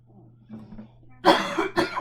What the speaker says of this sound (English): as soon as I start recording, I have to cough.